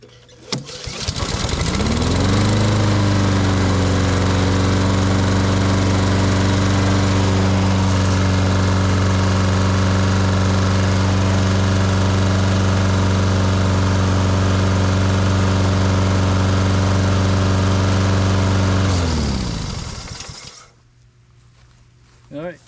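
A Honda lawn mower with an auto choke and a hard-start fault catches, revs up and settles into a loud, steady engine hum that runs for nearly twenty seconds before cutting off.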